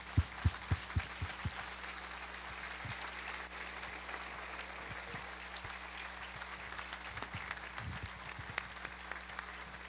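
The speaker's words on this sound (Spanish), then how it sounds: "manifestemos con un gesto no solamente el acto de fe, sino el cariño inmenso hacia todos ellos con el más fuerte, sonoro y cariñoso de los aplausos" Congregation at a Chrism Mass applauds its priests, sustained dense crowd clapping filling the church with a few sharper nearby claps, continuous and moderately loud under a low steady hum.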